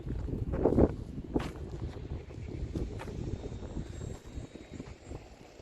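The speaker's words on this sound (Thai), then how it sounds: "ลมแรง" Strong wind blowing outdoors in a Swedish winter, with mountains nearby and light rain; a steady, rumbling gust noise buffets the microphone throughout, with a few brief louder bursts near the start.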